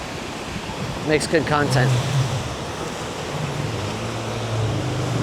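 Surf rolls in steadily at Playacar beach in Playa del Carmen, a continuous broad wash of ocean waves with wind noise, while voices talk briefly over it near the start.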